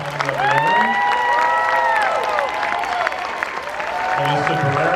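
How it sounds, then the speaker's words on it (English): A crowd at a convention horror-film panel applauds and cheers in a steady wash of clapping. An amplified voice sings or calls out over it in sliding tones. "please let's have a big round of applause for Tony Revolori"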